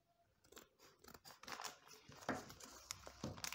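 Kizuna Z58 badminton string being cut, a series of crisp, close snipping sounds that grow louder and denser toward the end, with no voices.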